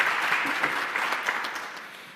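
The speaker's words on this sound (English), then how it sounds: "More clapping, more clapping." An assembly audience at a hybrid young lawyers' division annual meeting claps in a steady, dense round of applause that fades slightly toward the end, with no voices over it.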